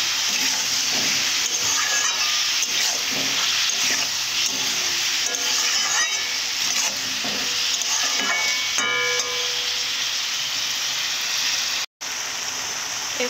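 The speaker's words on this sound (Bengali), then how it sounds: "এক বাটি পেঁয়াজ দেব। এরপর এইভাবে কষে নেব।" A bowl of onions is fried and stirred for a meat curry, giving a steady loud sizzle and hiss with repeated scraping strokes of a spatula against the pan. The sound is close and continuous, with a brief cut near the end.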